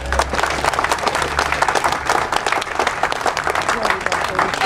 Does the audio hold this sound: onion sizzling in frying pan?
no